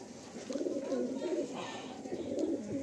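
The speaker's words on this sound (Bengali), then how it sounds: "এই একটা নর পায়রা" A male pigeon coos close by in soft, rolling, repeated calls, with faint background noise and no talk.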